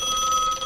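An old 1961-era telephone bell rings steadily, a bright sustained metallic trill heard close and loud with no voices over it.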